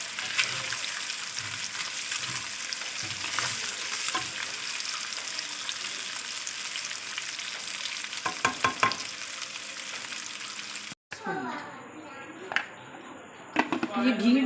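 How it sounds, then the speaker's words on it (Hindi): Onions fry in ghee over a high flame for chicken jalfrezi, a continuous close sizzle broken by stirring and scraping taps, with a voice talking over it at times. "ये घी डाल दिया, इसमें मैं प्याज डालने लगी हूँ।"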